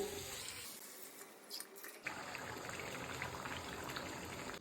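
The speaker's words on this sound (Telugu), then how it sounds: "తగినన్ని నీళ్ళు పోసుకోవాలి." Water gushes from a tap and pours into a cooking pot of brinjal, starting after a short pause and continuing in a steady splashing stream.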